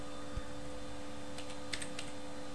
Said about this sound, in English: To create the blank GUI, we may type the guide in the command window.